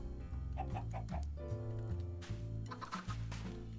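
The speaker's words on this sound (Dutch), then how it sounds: "Zo, dus we hebben hier weer kippen." Chickens clucking in a Minecraft survival world on an island, several overlapping clucks repeating steadily and close by over continuous game background music, with no talking.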